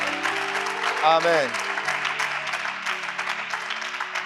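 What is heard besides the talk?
audience cheering and applause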